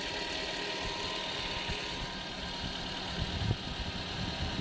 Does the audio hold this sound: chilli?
no